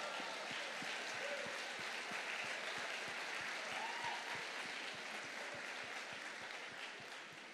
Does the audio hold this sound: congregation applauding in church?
yes